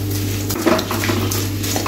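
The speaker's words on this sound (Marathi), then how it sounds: "अशाच प्रकारे मी राहिलेला डिंक पण थोडा थोडा घालून तळून घेते।" Edible gum (dink) fries in ghee in a pan, giving a steady sizzling hiss, with a stirring spoon scraping and clinking against the metal now and then. No one speaks.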